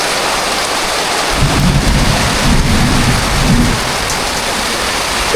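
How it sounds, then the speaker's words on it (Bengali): Heavy rain pours steadily on a rooftop or shelter near a bird cage under construction, with deep thunder rumbling in from about halfway through and swelling twice; no voices. "কাজের ভিতরে কি পরিমাণ বৃষ্টি শুরু হয়ে গেছে"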